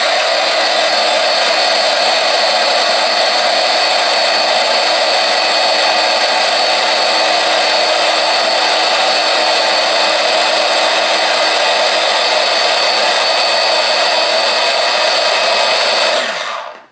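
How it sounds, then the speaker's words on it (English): Electric mixer mixing ingredients, a loud continuous high-pitched whir running steadily close by before cutting off at the end. "And mix them one more time."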